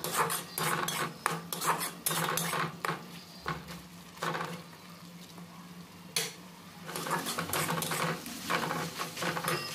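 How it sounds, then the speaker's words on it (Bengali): Chili, turmeric and coriander powders being stirred in a pan for a bean and potato curry: bursts of rasping scrapes from a utensil, irregular and close, with short pauses between strokes. "দিয়ে এটা ভালো করে মিক্স করতে হবে এইভাবে নাড়াচাড়া করে।"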